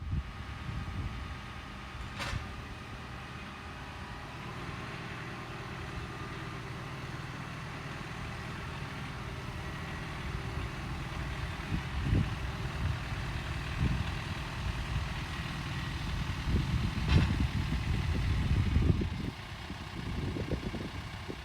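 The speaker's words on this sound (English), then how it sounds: "let me get the tractor started up" A tractor engine runs steadily, a low idling rumble that rises toward the end, heard from fairly close with no one speaking.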